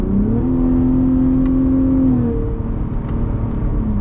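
A Ford F-150 Raptor engine is heard from the cabin as steady engine tones step down through a series of paddle downshifts, each marked by a brief rev change.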